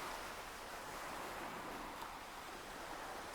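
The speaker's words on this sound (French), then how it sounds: "avec les vagues de l'océan" Steady, broadband wash of ocean waves rolling onto shore, heard alone and at an even loudness throughout, with no talking; a calm, continuous surf backdrop suited to guided breathing meditation.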